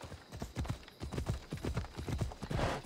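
Phobos the horse trotting in Assassin's Creed Odyssey, a steady rhythmic clip-clop of hooves close up, with a rising whoosh of game ambience near the end.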